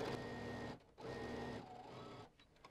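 A Brother sewing machine stitches a French seam in two close, loud bursts of rapid mechanical whirring, each under a second long, with brief pauses between them.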